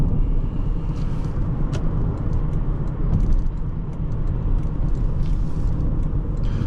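A 1995 Lexus LS400 drives along back roads, its steady low engine and road rumble continuous and close throughout, with faint wind and tire noise above and no talking.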